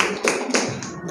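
A small classroom group claps for a student group during a teaching practice lesson, making a few scattered, close hand claps in quick bursts over a bit more than a second.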